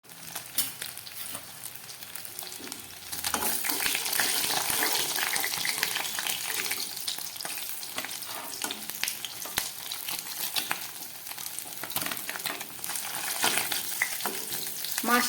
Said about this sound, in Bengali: মাছটাকে একটু কড়া করে ভেজে নিলাম